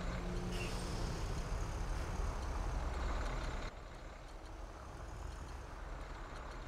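A city bus reverses in GTA V traffic in Liberty City, with a steady low engine rumble and road noise throughout that drops slightly partway through.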